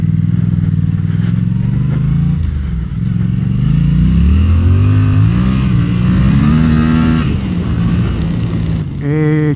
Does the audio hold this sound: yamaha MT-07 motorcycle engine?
yes